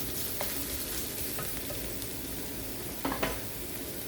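Onions stir-frying in hot oil with garlic and ginger, a steady loud sizzle throughout with a couple of brief spatula scrapes near the start and end, no voices.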